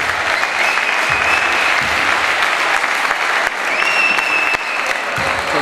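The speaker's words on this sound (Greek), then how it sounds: "Θερμά χειροκροτήματα για όλους τους παίχτες." At a veterans' football match, spectators in the stands applaud the players warmly. The clapping is loud and continuous, with a faint whistle and crowd murmur in the background.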